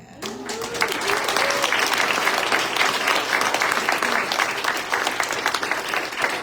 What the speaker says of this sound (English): We gotta give the young people a round of applause